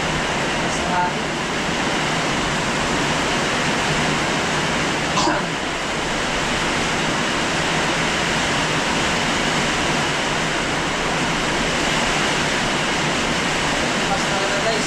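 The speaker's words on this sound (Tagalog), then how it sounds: "Lakas ang ulan, mayagan, grabe yan." Heavy rain and strong wind battering a small hut during a storm, a loud, constant, broadband roar that fills every moment with almost no variation.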